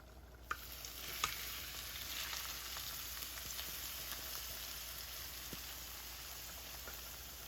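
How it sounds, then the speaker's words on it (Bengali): A garlic and onion tempering hits a sour dish with a steady, close hiss of sizzling oil. A couple of sharp clicks come near the start, and no one speaks. "টকের মধ্যে এখান থেকে বাগারের রসুন পেঁয়াজ দিয়ে দিচ্ছি"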